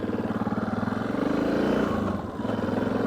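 Suzuki DR650 dual-sport motorcycle engine pulls hard, its throbbing single-cylinder beat rising in pitch as it revs up, easing briefly near the end, then picking back up, steady and close.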